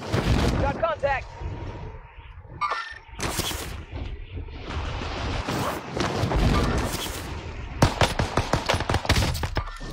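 Gunfire in the video game Warzone, with rapid bursts and single shots cracking loudly and close over a rumbling background, mixed with players talking over it.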